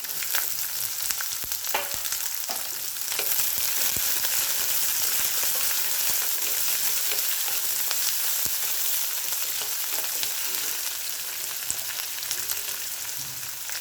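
Dried red chillies, green chillies and onion sizzle in hot oil for a Karnataka-style methi huli rice, a steady close crackling fry with occasional stirring clicks and no talk.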